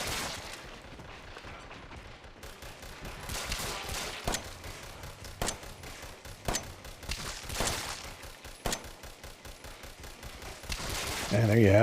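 An automatic turret in Resident Evil 7 lets off rapid bursts of gunfire, sharp repeated cracks in quick rhythmic volleys, loud and close, with some overlapping impacts.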